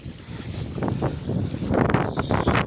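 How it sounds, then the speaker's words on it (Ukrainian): Steady gusting wind buffets the microphone at an artesian well, a broad rumbling roar that swells louder toward the end, with some watery churning underneath from muddy water flowing from a hose. "Вибачайте за вітер."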